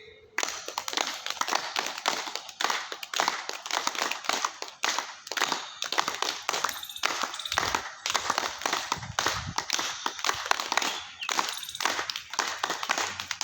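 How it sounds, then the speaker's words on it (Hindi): A group doing laughter yoga at a yoga camp in Niwaru, Jaipur, clapping their hands loudly together in a fast, steady, dense patter that runs unbroken from start to finish. "तो जोर से बजाइए ताली।"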